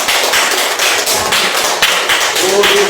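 Church congregation applauding during a worship service: loud, dense, continuous clapping with a brief voice rising near the end.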